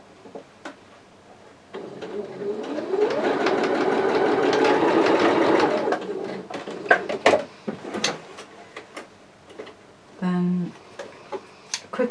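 Sewing machine stitching a roman blind, a close mechanical whir running steadily for a few seconds, then short clicks and handling noises with a brief voice.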